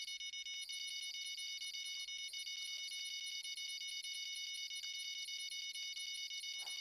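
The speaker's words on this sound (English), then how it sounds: "Now you start beeping for the other rod." Electronic bite alarm on a fishing rod in the Fishing Planet game, with steady high-pitched tones running continuously at an even level throughout, alone with no voice.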